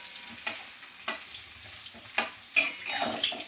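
Papad frying in hot oil in a home kitchen, a soft continuous bubbling sizzle broken by several sharp crackles and splashes as the wafer is moved about, close by with no voices.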